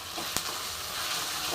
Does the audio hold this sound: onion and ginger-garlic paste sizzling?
yes